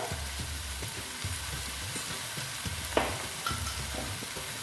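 Chili powder and turmeric sautéing in a pan for a niramish soybean curry, a soft steady sizzle with repeated spoon stirring scrapes and one sharper clink.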